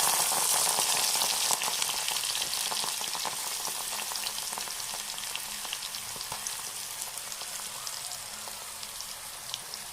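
Ginger, garlic and cumin paste frying in hot oil in a wok makes a dense, close, continuous sizzle with fine crackling pops. The sizzle fades slightly over the ten seconds, and no one speaks.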